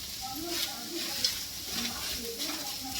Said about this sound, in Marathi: आता कांदा टाकला आहे भाजायला आपण